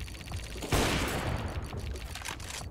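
Rapid gunfire in the Counter-Strike video game, a loud burst of overlapping shots followed by continuous rattling fire and game noise.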